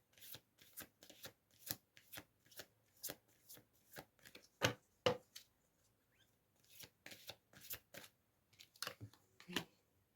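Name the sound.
shuffling and drawing oracle cards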